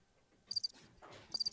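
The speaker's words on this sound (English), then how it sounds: "The crickets." Soundboard cricket chirp effect played during a tabletop Dungeons & Dragons session: two short bursts of high, thin chirping, faint and close-miked, with no talk over them.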